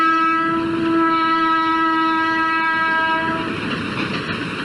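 A train passes on the railway line right beside Nur Jahan's tomb, sounding a long loud horn blast over rumbling rail noise that continues steadily after the horn fades.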